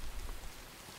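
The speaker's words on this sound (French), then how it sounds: "Mais il y a de la pluie là" Rain falls steadily in a brief dense patter of drops striking surfaces close by, loud and unbroken, with no voices.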